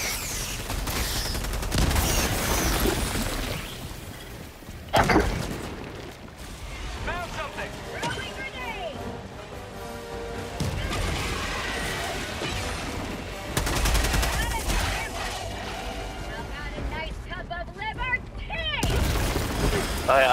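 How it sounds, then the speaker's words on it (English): Grenade blast and gunfire in the Helldivers 2 video game, with loud bursts of shooting, a sharp explosive boom near the middle and more boom-like hits later, all under a constant layer of busy battle noise. "Throwing grenade!"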